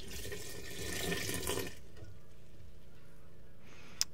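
Water poured from a container into a mixer bowl of pizza dough ingredients (yeast and salt), a steady close splashing stream lasting under two seconds before falling quiet, with a small click near the end.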